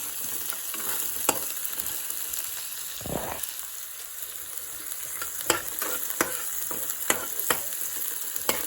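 Onion sizzles and fries in a pan, a steady soft crackle broken by occasional sharp stirring clicks and scrapes of a spoon, with no talk.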